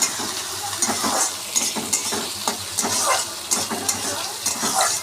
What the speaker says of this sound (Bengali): পেঁয়াজটা একটু লাল লাল করে ভাজা করে নেব।